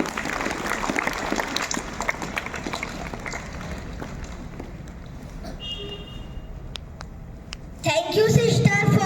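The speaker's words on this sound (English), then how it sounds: "Give a big round of applause to class first A." Pupils and staff at a St. Francis School assembly applaud class 1A, a broad, busy clatter of hands that gradually thins and fades, then a voice cuts in loudly near the end.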